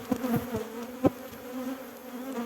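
Honey bees buzzing around an open hive during beekeeping work, a steady close drone with a few louder passes as individual bees fly near, no speech heard.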